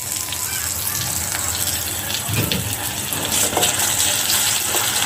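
Green chilli, onion, ginger and garlic fry in a pan for an egg and potato curry, giving a loud continuous hiss and sizzle with faint stirring knocks, close up.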